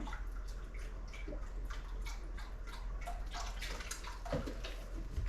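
Hands washed under running water from a tap: a faint, continuous splashing stream with brief drips and gurgles, close by and without talk.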